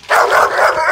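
Dog barking during civil agitation training: a single loud, close, aggressive bark, harsh and sustained for under a second.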